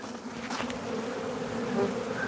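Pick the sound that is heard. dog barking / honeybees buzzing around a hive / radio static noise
honeybees buzzing around a hive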